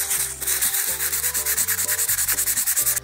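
A small handmade keychain is sanded by hand with sandpaper bought at Seria, giving close, rhythmic back-and-forth scratching strokes at an even pace with no voices.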